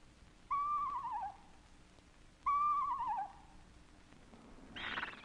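A screech owl gives two clear descending, quavering whinny calls about two seconds apart, close and distinct against a quiet background, followed by a brief rustling burst at the end.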